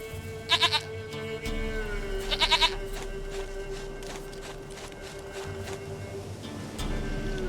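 Goat bleating in The Witcher 3 video game, two short quavering bleats a couple of seconds apart over a constant low ambient drone.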